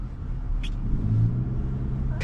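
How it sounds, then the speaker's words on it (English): Tuned 2020 Honda Civic Si driving on a snowy road: a steady low engine and road rumble holds close and continuous, with a couple of brief sharp hiss-like noises cutting in near the start and end. "This is the first time I've actually driven this car in the snow."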